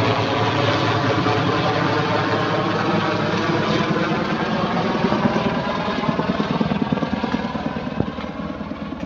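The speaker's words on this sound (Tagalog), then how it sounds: "Rescue helicopter ito mga idol." A rescue helicopter flies overhead, its steady rotor chop and low engine drone holding loud and continuous for about nine seconds, alone without talk.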